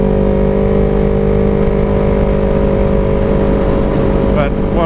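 A Yamaha R3 motorcycle engine runs loud and close, holding a steady droning hum with strong wind rush throughout.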